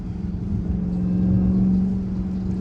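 A Hellcat Jailbreak drives during a hurricane, its engine giving a steady, close, low rumble and hum at moderate, even throttle.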